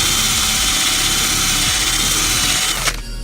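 A power drill spins a removal wheel against a car's body to strip off vinyl stickers, a loud steady whirring grind that runs unbroken and then cuts out abruptly near the end.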